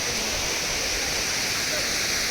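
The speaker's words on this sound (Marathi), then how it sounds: "तर हा एक वॉटरफॉल टाईप विषय आहे, पण मग इकडं रस्त्यावर खूप भारी पाणी वाहतंय" A hidden waterfall with water flowing heavily across a road roars in a dense, unbroken rush, loud and close, with no pause over the whole stretch.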